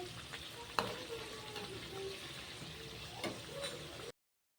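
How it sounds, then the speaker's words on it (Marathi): Samosas deep-frying in hot oil until crispy, a steady, quiet sizzling hiss with a couple of faint clinks from stirring; no talking. "क्रिस्पी होईपर्यंत आपल्याला हे समोसे तळून घ्यायचे आहेत."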